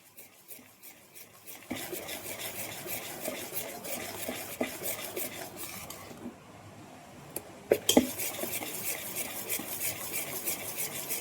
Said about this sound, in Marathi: आता हे चांगलं फेटून घेतलंय मी सात आठ मिनिटं